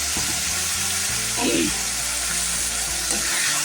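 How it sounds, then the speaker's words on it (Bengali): Eggs frying with salt and turmeric in a pan with ginger-onion paste give a loud, dense, constant sizzle, broken by a couple of soft stirring scrapes. "লবণ হলুদ দিয়ে সুন্দর করে ভেজে নিচ্ছি"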